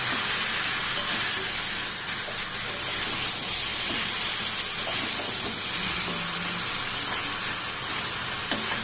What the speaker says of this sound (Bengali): অল্পটা রেখে দিলাম এবার একটু এটাকে নাড়ব